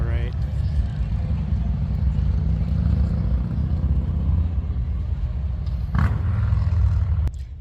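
Motorcycles riding past during the Sturgis rally, a continuous heavy engine rumble and roar with a louder machine passing close by near the end.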